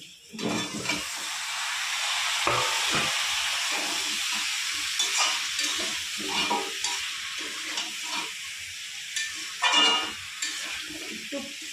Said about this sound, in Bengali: এবার দিয়ে দেব কুমড়ো আর বেগুন।